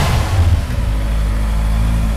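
A classic motorcycle fitted with a pair of aftermarket exhausts, one on each side, idles close by with a deep, loud, steady rumble and a slight rev at the start.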